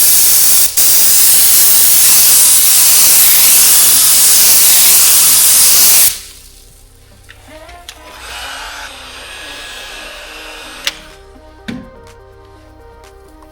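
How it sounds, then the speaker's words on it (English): PPG Deltron 8177 clear coat lacquer hisses from a spray gun onto a car door handle, a loud steady spray for about six seconds that stops abruptly, followed by quiet handling clicks and faint knocks. "It's now time to put the clear coat on the handle."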